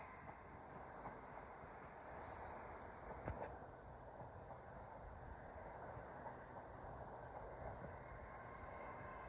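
Electric multiple unit 801210 bound for Edinburgh Waverley runs through York station on the East Coast Main Line, a steady low rumble and rail hiss holding level throughout, with one brief clank near the middle and no voices.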